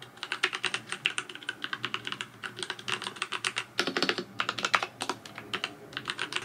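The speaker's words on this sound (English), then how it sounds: "this is the keyboard that kind of started it all. It is supposed to be more creamy. It does sound a little bit more clicky" Rapid, steady typing on a clicky mechanical computer keyboard, each keystroke a sharp close click in an irregular stream with a brief pause partway through, no voices.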